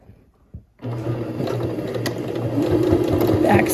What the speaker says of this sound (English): And we're gonna start to sew.